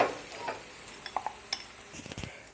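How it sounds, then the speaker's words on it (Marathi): Batter is stirred and poured into a hot pan on medium heat, giving soft scraping and light clicks over a faint, quiet sizzle in a brief moment. "आणि हे बॅटर एकदा ढवळून असं या पॅनमध्ये टाकायचं"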